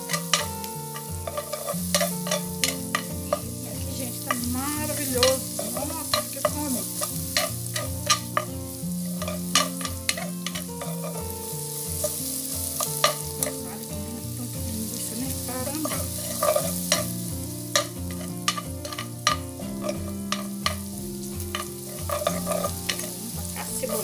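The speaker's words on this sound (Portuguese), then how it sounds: "Agora que já fritou, gente, nós vamos estar colocando o alho." Garlic sizzles in a pan as it is added after other ingredients have fried, with steady crackling and frequent scraping stirs and clinks of a utensil, and no voices.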